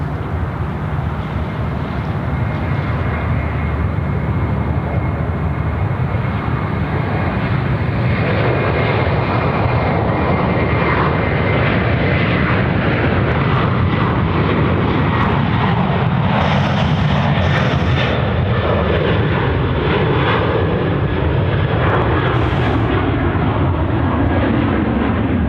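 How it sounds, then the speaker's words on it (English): A heavy Airbus A330 jet departs runway 34 right at Sydney Airport, producing a loud, sustained engine roar that fills the whole stretch as it rolls and climbs, with no other sounds breaking through. "we're now got an A330 departing here"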